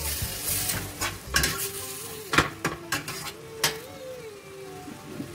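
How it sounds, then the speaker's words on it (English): Pork goulash is mixed in a pot, a low simmering sizzle under a handful of clanking spoon scrapes and knocks against the metal, close and moderately loud. "let's mix it once again"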